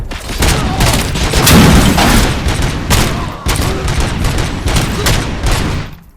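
Loud, dense bursts of gunfire fill RoboCop: Rogue City, with heavy rapid volleys and booming impacts rolling almost continuously, broken by brief gaps.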